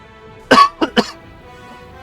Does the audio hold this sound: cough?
yes